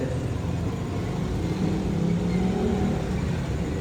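Steady low rumble of road traffic passing near Lahore railway station, a continuous drone of car engines at close range with no clear breaks and no voices.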